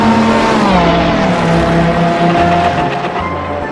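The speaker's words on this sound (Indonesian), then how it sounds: "mobil balap" A toy race car's loud engine revving, a continuous buzzing roar that rises and shifts in pitch, close and alone for a few seconds.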